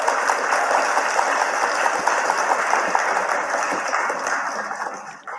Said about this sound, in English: let's give all of our honorees a big virtual round of applause